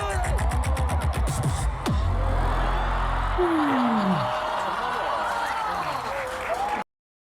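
A live crowd cheers and applauds a beatboxer, loud and continuous, with whoops and a rising whistle over the clapping, and a voice speaking partway through.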